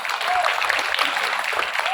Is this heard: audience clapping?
yes